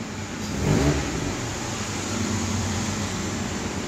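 A cold Honda City engine revs up as its idle control valve is adjusted to raise the idle speed, a steady close mechanical hum with one brief swell in revs, no talk.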